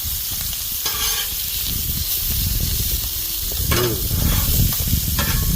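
Burgers sizzling loudly on a grill, a dense continuous hiss with spatula scrapes and clinks as the patties are turned, while a voice briefly speaks over it.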